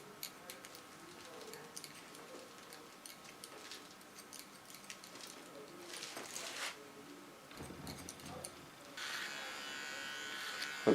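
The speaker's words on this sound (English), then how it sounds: "With my small clipper I clean up this side first" A small electric hair clipper buzzes steadily while trimming hair, faint at first and growing louder and closer toward the end, with light clicks and handling noise throughout.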